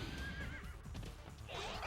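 A horse in the video game Dynasty Warriors 3 gives a quavering whinny up front, followed by a short burst of clattering noise, with steady game background sound underneath.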